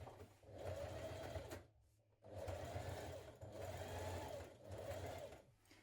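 A sewing machine edge stitches around a garment pocket for a Simplicity 1447 sewing pattern. The motor whirs steadily and close in several long runs, separated by brief pauses.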